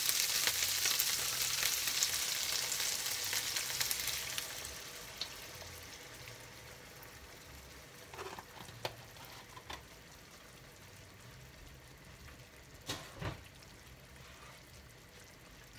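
Boudin blanc with mushrooms and crème fraîche sizzles in a pan, a soft frying hiss that is stronger at first and then fades lower, with a few faint clinks and stirring sounds.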